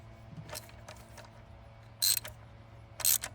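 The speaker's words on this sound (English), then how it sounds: "So we're going clockwise, which is to the right, to tighten up our screws." Engine mount screws being tightened by hand on a 2004 Chrysler Pacifica, giving two short bursts of bright metallic ratcheting about a second apart over a quiet background, with a few faint clicks before them.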